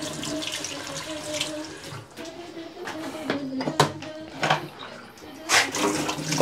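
Water runs from a tap into a sink for washing the face, a continuous splashing stream close by with several louder bursts and gurgles as hands move through it.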